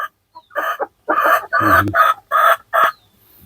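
Light Sussex chickens on a farm cluck in a series of close, loud bursts, with a rooster crowing partway through, separated by short pauses and no talk.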